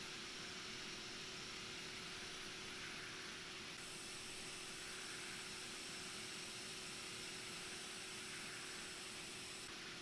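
Airbus A319 airliner in X-Plane 11 during pushback, giving a steady, loud broadband engine and air roar with a constant low hum running throughout, no talking.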